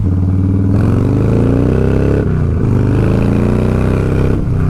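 A motorcycle revs and shifts through gears while riding down a road, loud and close, with repeated rising engine pitch broken by brief gear changes and a steady rumble beneath.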